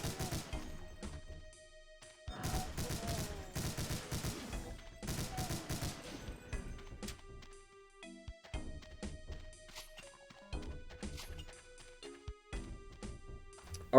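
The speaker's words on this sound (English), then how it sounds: "can just rapid tap the chain gun to make all of your bullets shoot perfectly straightforward" Chain gun rapid-tapped in the video game DOOM: dense bursts of rapid gunfire in short clusters, alternating with quieter stretches of game music tones, moderately loud.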